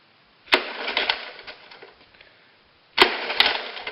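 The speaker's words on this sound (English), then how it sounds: "Okay, got the starter back together. Let's give it another try." Honda ATC 70 engine being cranked by its starter in two short bursts separated by a pause, a close, rough whirring and clattering with no sign of the engine firing.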